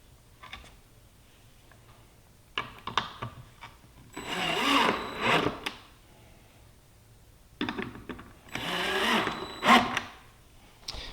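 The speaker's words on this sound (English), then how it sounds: "I'll put these screws in" A power drill drives screws through a cleat on a mobile quilt display case, with two bursts of whirring, each rising and stopping as a screw seats, separated by quiet handling clicks.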